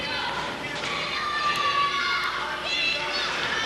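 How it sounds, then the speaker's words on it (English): A capacity crowd at a Mt. Vernon wrestling match roars in a sustained ovation, a dense wash of cheering and shouting that holds steady throughout while a commentator talks over it. "Dingo right now enjoying the ovation from the capacity crowd."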